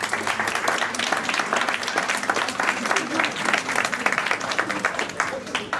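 An audience at a student talent contest applauds steadily, a dense wash of many hands clapping together without pause.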